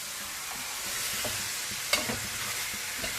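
Cumin seeds frying in a little oil in a home kitchen pan, a steady soft sizzle with a few stirring clinks and one sharper scrape, heard alone without talk.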